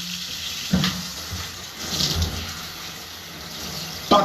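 A running shower gives a continuous hiss of falling water, with a couple of brief knocks or splashes rising above the steady flow.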